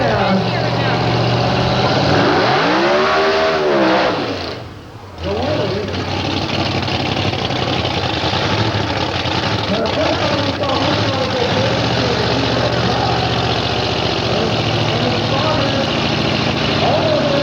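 A-Gas sedan drag racing car at the Bonneville drag strip in Salt Lake City, its engine idling loud and close with a rising rev sweep early on, a brief dip, then a steady rumble under an announcer's voice.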